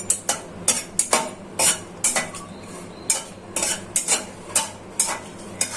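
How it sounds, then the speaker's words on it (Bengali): Whole cardamom, cinnamon and bay leaves fry in oil in a pan while a spoon stirs them, giving a steady run of sharp metallic clinks and scrapes about twice a second, close and fairly loud. "তার জন্য মশলাটা আগে ভেজে নিচ্ছি।"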